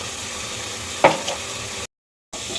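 Fenugreek leaves fry in a pan with a continuous sizzle, one sharp scrape or clatter rising above it midway, then a brief dropout before the sizzle resumes.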